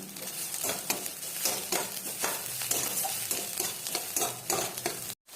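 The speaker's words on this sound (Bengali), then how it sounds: "এই জলটা যতক্ষণ না মরছে এটাকে কিন্তু ভাজবো আমি" Button mushrooms frying in a pan with onion and ginger paste, a steady close sizzle broken by frequent scraping and stirring clatter throughout, with a brief drop near the end.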